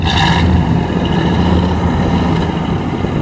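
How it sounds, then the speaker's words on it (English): A 1957 Pontiac Star Chief convertible's engine gives a loud, close, steady low rumble with a slight rev at the start, settling into an even idle-like drone. "We get a little of that rumble. Just a little rev, Terry."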